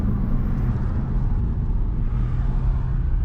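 Steady low engine rumble and road noise from a Volvo 240 car on a drive, continuous and fairly loud without breaks, heard from inside the cabin with no talking.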